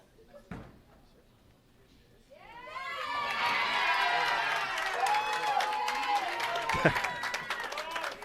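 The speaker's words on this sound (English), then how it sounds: "The Midland crowd was waiting to cheer that shot on, obviously knowing now that they are winners." A Midland crowd erupts in cheers for the winning shot at the 2019 Leatherneck Classic women's bracket, a sharp thud early, then loud sustained cheering and shouting rising after a few seconds and holding to the end.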